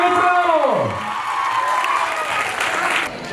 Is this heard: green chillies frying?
no